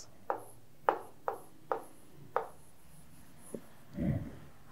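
A marker or chalk writes a word on a classroom board in five short, crisp strokes at a steady pace, followed by a faint tap and a softer rubbing sound.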